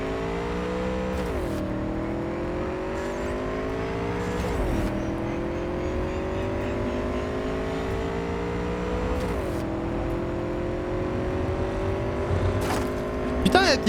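A motorcycle ridden in the video game Cyberpunk 2077 gives a steady, droning engine tone. The pitch climbs gradually and drops sharply at each of three gear shifts.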